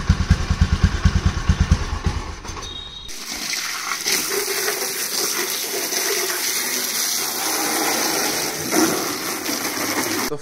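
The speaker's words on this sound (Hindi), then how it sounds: "अभी स्टार्ट करके आपको फिर दिखाते हैं।" A scooter engine starts with a quick run of rhythmic cranking pulses, then settles into a steady, rough running hum with clattery mechanical noise close by and no voices.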